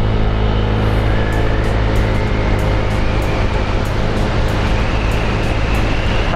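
Honda Vario 160 scooter ridden at top speed, a loud continuous roar of wind rush and engine drone with no pauses, steady and close throughout.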